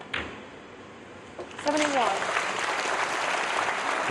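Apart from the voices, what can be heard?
snooker crowd applauding frame ball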